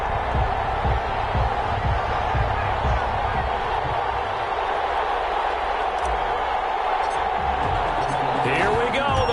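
Stadium crowd before a Green Bay Packers versus Detroit Lions NFL game, a continuous loud roar of massed voices and cheering with a broadcaster talking over it.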